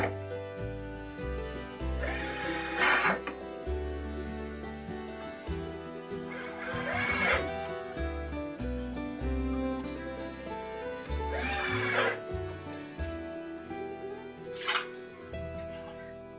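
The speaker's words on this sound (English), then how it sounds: "then we'll drill the holes and put our screws in" Three short bursts of a power drill whining into wood while building an end table, spaced several seconds apart, with quieter shuffling and handling sounds between them.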